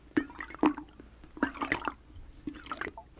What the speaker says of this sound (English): Can you listen to the hot water bottle and tell me how many sloshes you hear?